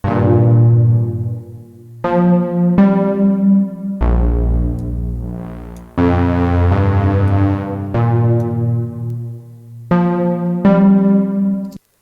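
A Serum synthesizer pad morphed by one macro plays a series of percussive, key-like chords with quick attacks and ringing decays, one stroke after another, alone and fairly loud.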